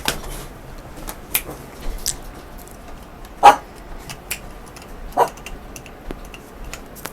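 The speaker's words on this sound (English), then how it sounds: "my dog's barking" A dog barks indoors during a gaming session, giving several sharp barks scattered across the stretch, one louder bark standing out, with faint clicks and clatter in between.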